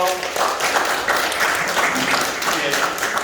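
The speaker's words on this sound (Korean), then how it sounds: "큰 박수 부탁합니다." Applause from an audience at a Korean opening ceremony for a logistics center, a dense wash of clapping that holds steady for a few seconds with a voice faintly underneath.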